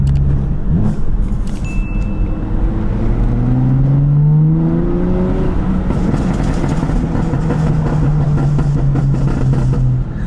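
A BMW F80 M3 tuned with Bootmod3 on maximum burble aggression and duration, its engine note loud and close, rising and falling in pitch as it revs, with scattered crackles over a constant rumble.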